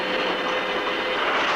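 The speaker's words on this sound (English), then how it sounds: "Well, there goes your train." A train passes along a railroad with a loud, steady rushing roar that holds constant throughout, with no voices.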